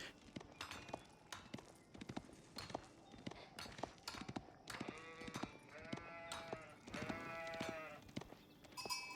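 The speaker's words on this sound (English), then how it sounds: "a bunch of sheep coming in from Valdemar" Sheep in the Age of Empires video game bleat repeatedly, several overlapping calls among sharp clicking game effects, fairly loud and continuous with no talk.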